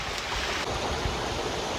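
Water flowing down near a hidden waterfall at Katraj, Pune, a steady hissing rush that holds evenly throughout, close and moderately loud, with no voices.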